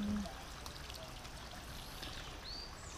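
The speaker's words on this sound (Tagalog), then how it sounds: "So yung tubig dito tuloy-tuloy lang," Strong mountain stream water flowing in rural Bataan, a steady, fairly quiet rushing and trickling wash that continues evenly throughout, with faint bird calls and no talk over it.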